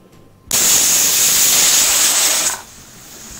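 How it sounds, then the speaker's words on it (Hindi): Pressure cooker boiling chickpeas lets out a single loud, sharp steam whistle lasting about two seconds, hissing strongly before cutting off abruptly to a faint background. "एक बिसल आ गई है"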